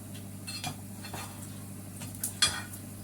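Kuzhi paniyaram being turned over with a fork in the hollows of a paniyaram pan, giving several light metallic clicks and scrapes over a steady low sizzle, with a sharper clink near the end and no talking.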